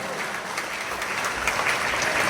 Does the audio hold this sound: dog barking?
no